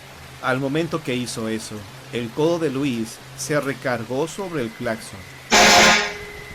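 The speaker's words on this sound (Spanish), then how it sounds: "el codo de Luis se recargó sobre el claxon." Voices talk for several seconds, then a single loud, sustained car horn blast cuts in near the end.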